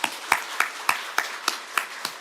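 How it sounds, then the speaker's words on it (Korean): A church congregation claps in a slow, even rhythm, about eight distinct hand claps spaced roughly a third of a second apart, moderately loud and alone. "박수로 격려해 드리겠습니다."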